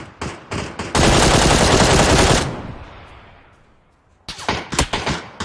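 Gunfire in the PUBG battle game: a few quick shots lead into a long, loud sustained spray that fades out over a couple of seconds, followed by another cluster of sharp shots.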